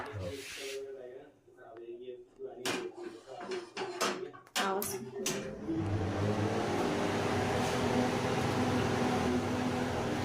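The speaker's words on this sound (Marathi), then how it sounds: "एक्झॉस्ट चालू करू." A kitchen exhaust fan switches on partway through and settles into a steady, broadband whoosh, after scattered clatter and bumps from cooking chutney; the fan noise fills the background loudly and evenly to the end.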